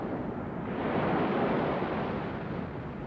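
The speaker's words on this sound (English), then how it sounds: "The wind put whitecaps on the waves." Wind and waves of a winter storm at sea, whipping up whitecaps: a steady, broad roar of surf and gusting wind that swells slightly midway and holds without a break, with no voices.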